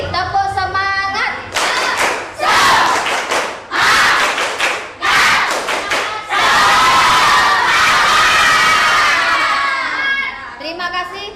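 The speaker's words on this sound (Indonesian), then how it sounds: "Sekali lagi, tepuk semangat." Schoolchildren clap loudly in rhythmic bursts for a spirit-clapping routine in a classroom. Quick clap patterns are broken by short pauses, then give way to a long stretch of cheering and shouting. A teacher's voice is heard at the start and end.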